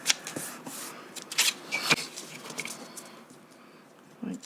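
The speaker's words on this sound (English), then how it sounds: "use the bone folder to get it right at the edge of my mark" Paper being creased with a bone folder during book page folding, a series of soft dry scrapes and light taps spread across the clip, close and quiet, with no voices.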